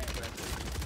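Gunfire rattles in a Warzone 3 match on Rebirth Island, a brief, muffled burst of rapid shots rumbling at low volume.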